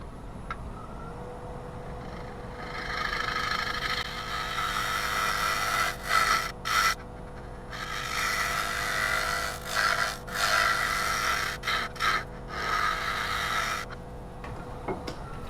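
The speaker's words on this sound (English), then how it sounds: "let's get out a nice sharp scraper" A sharp scraper cuts across maple spinning on a wood lathe, giving raspy bursts of scraping that come and go in several passes with short pauses, over a faint steady motor hum and no talk.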